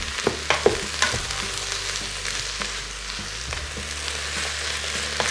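Carrots, garlic and other vegetables sauteing in a pot in a Philips all-in-one cooker give a steady close sizzle, punctuated early by a few sharp clicks and knocks of stirring.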